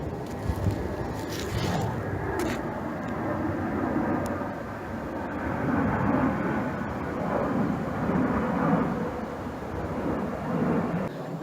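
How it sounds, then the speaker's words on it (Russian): An airplane passes overhead near water at the Serednikovo estate, a broad, continuous roar that swells and fades gently, heard from a distance alongside faint wind, with no talk. "Очередной самолет."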